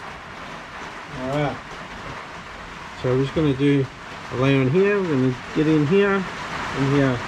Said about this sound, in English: it's the rain on the tin roof.